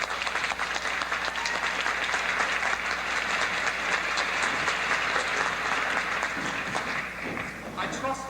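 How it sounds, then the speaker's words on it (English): Audience applause at a 1990 high school musical performance of The Mystery of Edwin Drood, a sustained, fairly even rattle of many hands from a theater crowd, softening near the end as a voice comes in. "I trust the moderation in your applause merely means that you're saving your energies for the final curtain"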